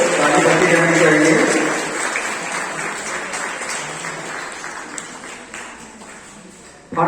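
Children clapping at a school prize distribution ceremony in Purnea, with a loud burst of applause at the start that settles into steady, thinner clapping before fading.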